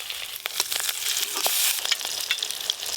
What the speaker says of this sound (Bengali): এইগুলো উল্টে পাল্টে ভেজে নেব।